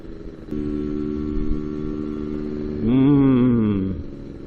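A Lambretta scooter engine with an aftermarket exhaust idles steadily, then revs up sharply for about a second with a rising, buzzy whine before dropping back.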